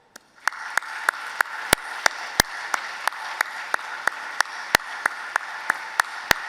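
Graduates at a graduation ceremony applaud their family and friends: a small group clapping, with sharp, distinct individual claps ringing out unevenly over a steady room murmur.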